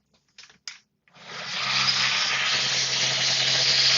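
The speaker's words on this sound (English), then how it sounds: "This is an audio test of the Jabra Evolve2 85 ear cup mics with a noisy vacuum cleaner in the background." A noisy vacuum cleaner starts up and runs steadily, a loud continuous broadband whine and hum in the background, after a few brief knocks and clicks at the start.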